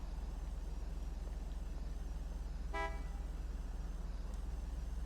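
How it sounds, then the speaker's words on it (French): A single short car horn toot from a vehicle in the GTA video game sounds once, brief and moderately clear, over a steady low engine drone. "je n'ai pas voulu quoi klaxonner, j'ai appuyé accidentellement sur le bouton"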